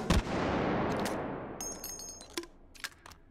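A grenade launcher fires in the VR shooter Hot Dogs, Horseshoes & Hand Grenades: one loud, close blast that rolls off over a few seconds, followed by a few faint clicks and knocks.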